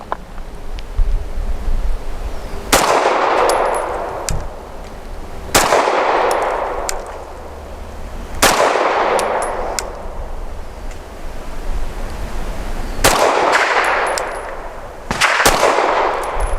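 Sig M17 pistol firing Nosler ASP 115 grain jacketed hollow point rounds outdoors: five loud, sharp shots at irregular intervals of a few seconds, each followed by a long rolling echo, with wind rumbling underneath.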